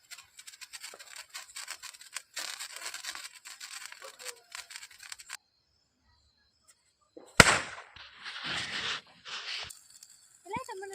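Rapid crackling bursts of firecrackers popping for several seconds on a farm, then silence, one sharp bang, and voices talking afterward.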